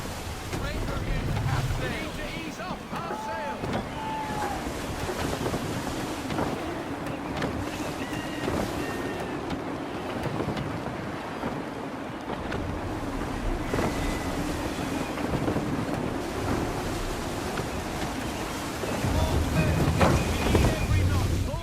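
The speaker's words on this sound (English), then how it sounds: "Gusty winds can be difficult to manage." Gusty wind at sea in Assassin's Creed 3, steady blustery wind and surf around a sailing ship, with waves washing throughout and a voice speaking over it, swelling louder near the end.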